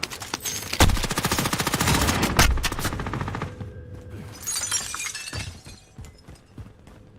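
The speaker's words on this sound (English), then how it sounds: "Taking effective fire." Rapid bursts of automatic gunfire crack and rattle around the player in a shooting video game, loud and close, with shattering impacts and a brief lull before more scattered shots.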